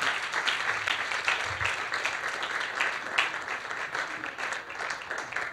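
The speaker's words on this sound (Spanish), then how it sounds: "un aplauso para los niños" Church audience clapping for the children, a sustained spread of many hands applauding at moderate loudness, with faint voices and cheers mixed underneath.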